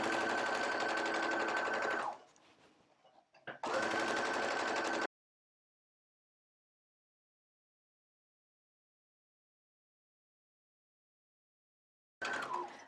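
A sewing machine stitching along the edge of a 1950s-style skirt runs in two loud, steady buzzing bursts separated by a short pause, then goes silent before a brief restart at the end.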